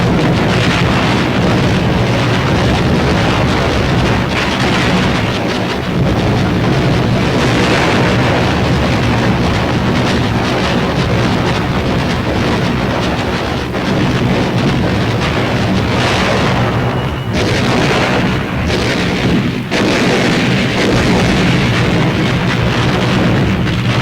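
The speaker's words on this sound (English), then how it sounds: "supporting ships deliver point-blank fire" Naval gunfire bombardment of Iwo Jima from supporting ships fills the air with a continuous dense roar of booming explosions and rumbling blasts, loud and relentless without pause.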